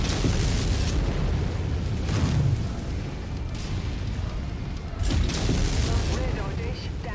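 Heavy artillery blasts in MechWarrior 5 during a beachhead battle, a dense, continuous rumble of booms with stronger bursts near the start and again around the five-second mark, loud and close throughout.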